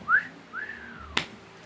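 A person whistles two rising-and-falling notes, clear and close, followed by a brief sharp click.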